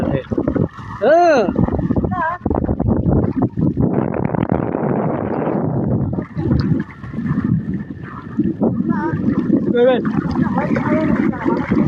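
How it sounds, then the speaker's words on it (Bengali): Strong wind at a riverside buffets the microphone in loud, rushing gusts, with people talking and calling out over it. "বাতাস বাতাস প্রচুর বাতাস"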